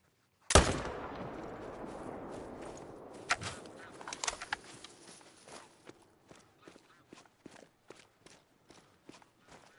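A sharp gunshot cracks out in a whitetail deer hunting video game, loud and close, followed by a long run of evenly spaced footsteps and small impacts fading in level.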